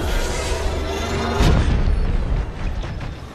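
Ground fire erupts in a Star Wars battle on Starkiller Base, dense booming explosions rumbling loud and continuous beneath a dense, roaring battle din, with one sharper blast in the middle.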